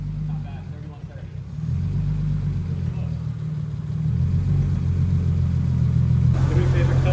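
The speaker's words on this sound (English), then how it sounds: "rev it up and hold it at like 310" A Honda S2000 engine running with a Link ECU, its low rumble rising as it is revved and then held steady, with talk over the top.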